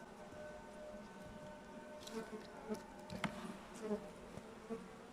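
Honeybees in a grafted queen-rearing hive, a dense, faint droning hum that holds steady throughout, with a few soft knocks and individual buzzes rising briefly above it.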